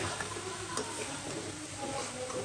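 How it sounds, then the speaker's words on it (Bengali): Potatoes being lightly sautéed in a pan, a soft continuous sizzle with faint stirring ticks, close but quiet throughout with no voices. "হালকা ভাজছে আর হচ্ছে এই যে আমার আলুটা কষানো হচ্ছে"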